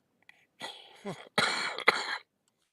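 A person coughs in a few harsh, close bursts, with a throaty rasp and short pauses between the fits.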